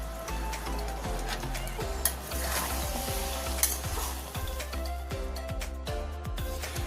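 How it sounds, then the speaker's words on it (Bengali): Taro stolons and prawns stir-fried with mustard oil in a pan, a steady sizzle under repeated scraping strokes of a spatula, close and continuous with no talk. "সরিষা তেলটা ভালো করে এর সাথে নাড়াচাড়া করে মিশিয়ে নেব"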